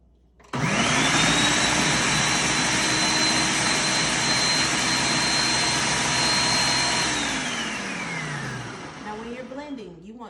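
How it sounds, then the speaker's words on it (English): A countertop blender whirs loud and steady while puréeing quinoa porridge, its motor holding one high whine for several seconds before winding down as it switches off. "it's gonna get a little loud in here, but we're gonna go ahead and blend this"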